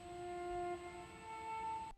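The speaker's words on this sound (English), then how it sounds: "I found this cool little brass sound, which sounds like this." Brass one-shot sample from a producer's kit, a sustained tone with a steady high harmonic, switching pitch partway through across two held notes, clean and alone before cutting off abruptly.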